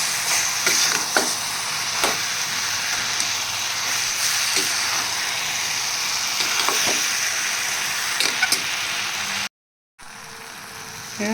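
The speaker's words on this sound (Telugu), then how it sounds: "ఇప్పుడు టమాటా శనగలు కొంచెం మిక్స్ చేసుకుని పేస్ట్ చేసుకున్నాం ఫ్రెండ్స్. వేసుకుని బాగా కలుపుకోవాలి." A tomato and chickpea paste goes into a hot pan for a poori curry and is stirred. Steady loud sizzling runs throughout with scattered scraping stirs, then drops out briefly near the end before the frying hiss returns.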